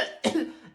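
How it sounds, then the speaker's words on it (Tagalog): Two or three short, husky coughs from a person with a cold, close and fairly quiet, separated by brief pauses with a faint breathy tail. "May ubo kasi ako."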